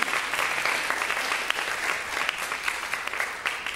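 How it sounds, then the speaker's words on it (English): A church congregation at an 11am service applauds together, a steady, dense clapping that carries on evenly without voices over it. "I think that deserves a round of applause"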